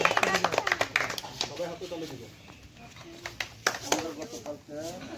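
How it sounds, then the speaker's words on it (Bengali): Schoolchildren in a classroom clap in quick, uneven bursts that fade and return, mixed with chatter and voices. "হাততালি"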